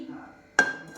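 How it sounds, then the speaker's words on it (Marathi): A metal kadhai set down on a gas stove gives one sharp clank with a short ringing tail, following a moment of faint room sound. "कढई ठेवत आहे।"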